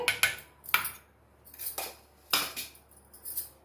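A spoon stirs gram flour into buttermilk in a metal vessel, giving a run of sharp, close clinks and scrapes in quick uneven bursts with short quiet gaps.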